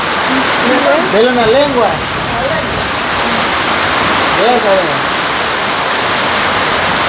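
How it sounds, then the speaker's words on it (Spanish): Rainwater pours in from everywhere inside a home, a loud, continuous rushing wash of water close by, with people's voices talking over it. "Se nos está infiltrando el agua por todos lados."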